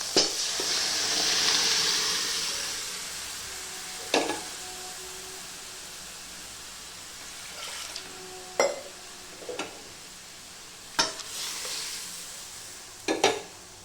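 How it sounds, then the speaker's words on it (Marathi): Cooked toor dal tipped into a hot tempering in a pan for varan, a sizzling hiss that fades, followed by a few sharp scraping stirs of a spoon against the pan at intervals. "आता टाकूया आपण शिजलेली तुरीची डाळ."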